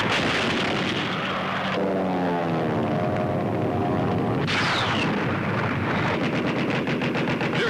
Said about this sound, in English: gunners keep up their withering barrage of anti-aircraft fire